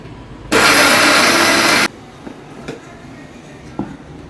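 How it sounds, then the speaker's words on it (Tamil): Loud, close whir of a mixer grinder pulverising chillies, cardamom and fennel for gravy, one continuous burst of a bit over a second that stops abruptly, followed by faint kitchen clinks. "இது எல்லாத்தையும் இப்போ அரைச்சி எடுத்துக்கலாம்."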